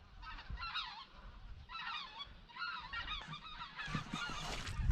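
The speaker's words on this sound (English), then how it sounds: "oh, there goes some snow geese" A flock of snow geese flying overhead honks repeatedly in bursts of overlapping calls, moderately distant, with a low rumble of background noise.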